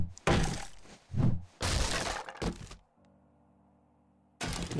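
Loot boxes smashed with a wrench in 7 Days to Die: a string of loud, sharp breaking and cracking bursts, then a low steady electronic hum, then another burst at the end. No one talks.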